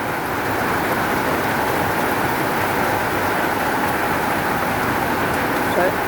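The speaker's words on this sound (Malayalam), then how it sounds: "കാലവർഷം ആരംഭിക്കുകയാണ്. അതിൻ്റെ മഴയാണ് ഈ കാണുന്നത്." Monsoon rain falls over plants and trees in a steady, dense, unbroken hiss that holds at the same loud level from start to finish.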